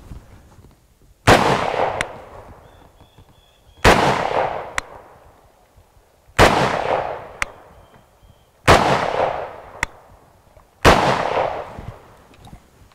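Five loud, separate rifle shots from a French MAS 49/56, spaced about two seconds apart, each a sharp crack trailing off in an outdoor echo, with faint metallic clicks between shots.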